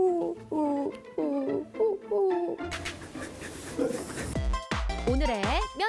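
A performer at a mock zoo job interview, listed as skilled at bird sounds, whistles and warbles a series of bird-call imitations with a voice, short chirping phrases and rising-falling trills, loud and close, with a burst of noisy sound in between.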